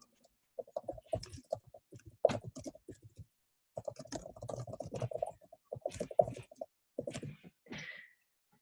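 Fingers type on a computer keyboard in quick, close clicking bursts separated by short pauses, light and crisp with no voices.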